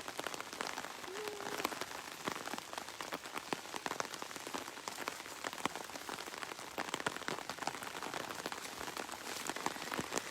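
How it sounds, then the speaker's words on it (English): Steady rain falls outdoors at a tribal council gathering, a soft continuous hiss of drops pattering on surfaces throughout, even and fairly faint with no voices. "to try and block some of that rain."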